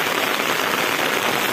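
Rain falling steadily in the dry backcountry of Tanque Novo, Bahia, a dense even hiss of drops striking surfaces, loud and continuous with no voices.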